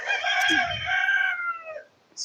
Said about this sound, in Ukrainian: Сусідський півень прийшов в гості, співає вам, чуєте?